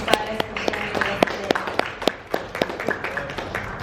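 Audience clapping at a fireside chat event, a scattered round of applause from a modest crowd with distinct individual claps close by, steady for a few seconds.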